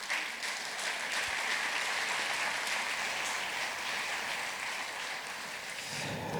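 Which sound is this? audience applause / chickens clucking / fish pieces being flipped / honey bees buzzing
audience applause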